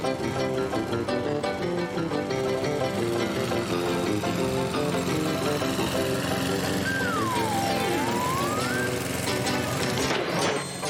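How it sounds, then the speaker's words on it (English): A lawn mower engine runs on and on at a loud, steady drone, with a rising and falling whistle-like tone over it partway through, and no talk. "But there was no stopping the mower."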